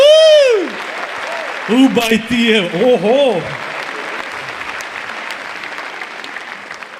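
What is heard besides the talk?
audience applause at stand-up comedy show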